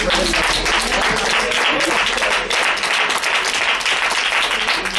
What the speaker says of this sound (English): A lot of clap for her.